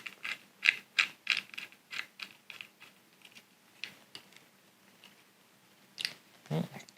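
A small screw holding the actuator arm inside an opened hard drive is worked loose, giving a run of close, sharp metallic clicks and ratcheting ticks that bunch at the start, thin out, then pick up again near the end.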